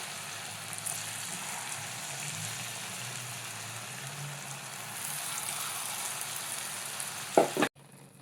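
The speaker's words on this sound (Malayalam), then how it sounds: "ഇനി നമുക്കൊരു ചീഞ്ചട്ടി വെച്ച് വെളിച്ചെണ്ണയൊക്കെ ഒഴിച്ച് ചൂടായതിന് ശേഷം നമുക്കിത് വറുത്തെടുക്കാം." Okra snack sizzling steadily in hot coconut oil in a pan, a soft continuous crackle with gentle stirring, fairly quiet and close, ending in a brief clatter.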